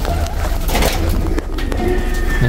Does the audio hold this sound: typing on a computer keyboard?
no